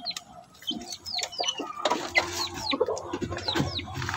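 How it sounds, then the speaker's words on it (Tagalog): Rhode Island Red chickens clucking and chattering nearby in a farmyard, a busy run of short, overlapping calls that grows denser and louder partway through. "Ito yung ating Rhode Island Red."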